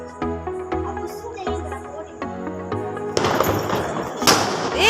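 Sharp Diwali firecracker bursts crackle loudly over steady tonal music, building into a dense, noisy stretch of popping explosions near the end.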